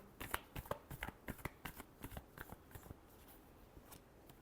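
Tarot cards being shuffled by hand in a quick run of crisp riffling flicks and soft slaps, close and fairly quiet, with the bursts thinning out toward the end and no talk over them.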